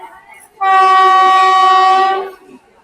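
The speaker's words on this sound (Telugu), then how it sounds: "మళ్ళీ ట్రైన్ వస్తుంది ఇప్పుడే." A train arriving at a railway platform sounds a loud, sustained horn blast lasting nearly two seconds, close and dominant over faint background platform noise.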